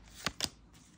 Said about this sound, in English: Just going to shuffle a little bit here.